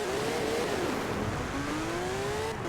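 A toy car engine revs in a continuous, rising and falling whine, steady and fairly loud, with no talking over it.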